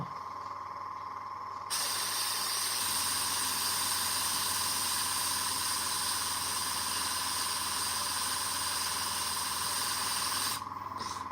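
An airbrush sprays paint onto a Warhammer miniature in a steady, close hiss that starts abruptly, holds for about nine seconds and then cuts off, with a faint hum beneath it and no talk.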